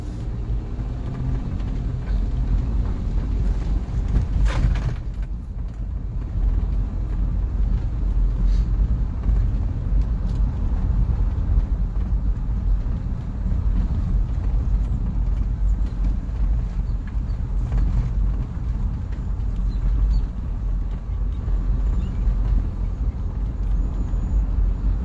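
A car drives through city streets in Whitney, giving a constant low road rumble and engine drone throughout, with a brief sharp knock early on.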